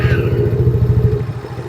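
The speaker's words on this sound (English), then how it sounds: "We're going to go ahead and start the bike." The small engine of an Ice Bear Champion minibike runs at a steady idle, a loud, close, rapid putter with a fast, even pulse that continues throughout.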